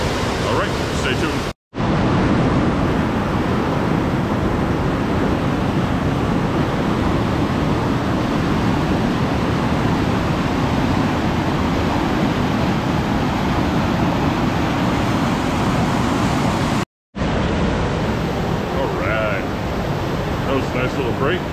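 Rushing water at Steep Falls, Maine, roars as a loud, broad, unbroken wash close to the microphone, cut by two brief dropouts, with no clear speech over it.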